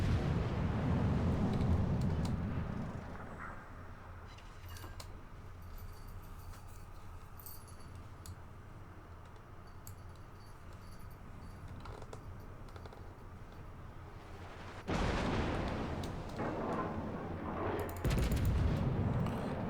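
Heavy naval gunfire from the battleship Puerto Rico in the World of Warships video game: loud booming salvos open and close the passage, with a quieter rumbling lull of game ambience in between.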